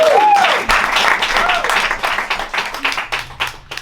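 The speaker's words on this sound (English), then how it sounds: "So I think we should all clap for that." Applause from an audience at a women's OUTSpoken launch event, a dense wash of many hands clapping that holds steady for a few seconds, then thins into scattered individual claps, with some voices mixed in.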